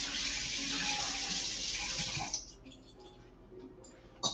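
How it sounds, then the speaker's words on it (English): Fresh forks rinsed under a running kitchen tap while preparing a sardine salad, a steady broad gush of water for about two seconds that cuts off, followed by faint clinks and quiet handling. "I'm going to get some fresh forks, just wash them off at this point."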